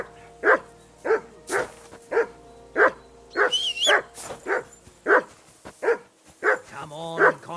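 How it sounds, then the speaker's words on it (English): A dog in Kingdom Come Deliverance 2 barks repeatedly, about a dozen sharp, evenly spaced barks close by, with a brief whistle and other game sounds mixed in. "Henry, that barking's driving me nuts."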